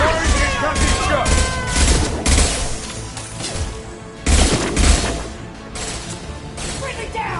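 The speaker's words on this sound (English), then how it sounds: "Firing concussive shot!" Concussive shot and gunfire in Mass Effect 2 during a firefight with Eclipse mercs, loud repeated impacts and bursts with a heavy thump near the middle, under shouted voices.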